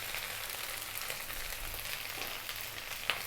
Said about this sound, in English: So I hope you can hear that there. That's your rice frying.